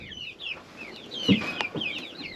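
Chickens cluck softly inside a coop, a series of short, close, overlapping clucks and murmurs with one sharper call near the middle, no talking.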